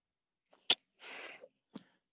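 A single sharp sneeze indoors during a group breathing and exercise class, loud and brief, followed by a soft breathy rustle and a faint short sound afterward.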